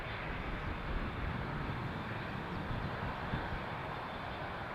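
A heavy airliner departing Amsterdam Schiphol's runway 36L for the Middle East, its engines a steady, fairly distant broadband roar that stays even throughout.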